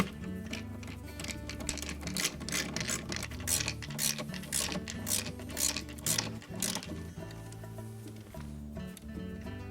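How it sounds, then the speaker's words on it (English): Screws tightened on a refrigerator fan motor mounted in a rubber grommet, a close, busy run of rapid ratcheting clicks that thins out toward the end, with no talk. "insert the back side of that motor into that grommet, and then tighten up the two screws"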